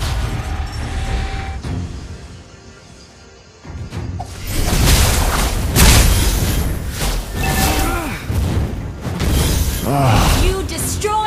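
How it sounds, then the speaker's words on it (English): A turret being destroyed in a mobile online battle arena game, a heavy booming blast with crashing, shattering debris and whooshing effects, loud and close over busy game sounds, with voices heard. "You destroyed the turret."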